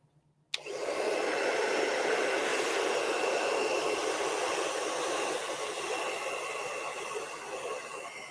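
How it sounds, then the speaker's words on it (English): A handheld hair dryer drying fresh acrylic paint on a canvas switches on abruptly and then blows with a loud, steady whoosh that continues to the end. "But here we go with my dryer."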